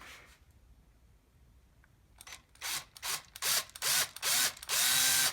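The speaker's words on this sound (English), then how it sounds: "I'm going to go ahead and just start drilling the first hole." A drill bores into a turbo car's valve cover in short repeated bursts, quiet at first and then louder, with a rising whine as each burst spins up and a whirring roar throughout.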